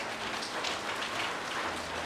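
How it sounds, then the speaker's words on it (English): Steady, dense hiss of heavy rain pouring down and drumming on surfaces nearby, continuous with no pauses. "It is coming down like cats and dogs."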